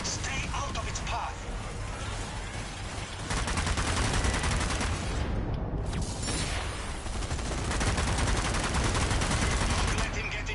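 Sustained machine-gun fire in the zombie shooter Zombie Army 4: Dead War, a dense continuous rattle of rapid shots that grows louder about a third of the way in and keeps going to the end, with a brief dip midway.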